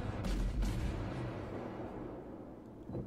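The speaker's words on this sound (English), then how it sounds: "Hit him with all four guns." Guns of a Tier V Minekaze destroyer firing in the World of Warships video game, heard as a pair of close, heavy booms early on that roll off into a rumbling decay, then a lighter thud at the end.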